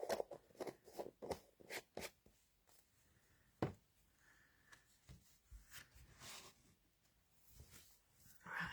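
Scissors snipping through craft material at a tabletop session, a series of quick close crisp cuts at the start, then sparser handling rustles and clicks of the crafting work.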